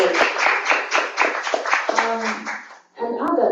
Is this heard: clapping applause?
yes